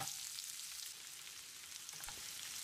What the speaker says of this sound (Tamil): வெங்காயத்தை செவந்து வர்ற அளவுக்கு வதக்கிடலாம்.